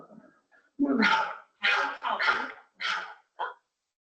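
A dog barks during an online meeting call, giving several sharp, fairly close barks in an uneven rhythm with short pauses, preceded by a faint whimper, with no talk over it.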